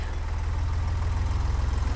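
A poorly serviced conventional car engine idles with a rough, throbbing low rumble and a steady pulsing vibration, continuous and close, with no talk.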